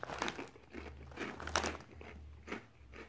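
Nongshim onion-flavored ring snacks from Korea are chewed close to the mic, giving repeated light, airy crunches and crinkly bites in an uneven rhythm, with no talking.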